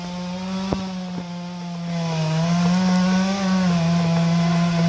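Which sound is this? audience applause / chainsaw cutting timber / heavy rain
chainsaw cutting timber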